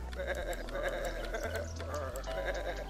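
Sheep from the puzzle adventure game Botanicula giving a run of quavering bleats, fairly close, over a sustained low tone in the background.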